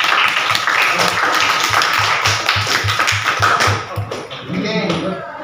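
An audience in a classroom or meeting room claps after a group presentation, a dense patter of many hands at close range that fades out toward the end as voices take over.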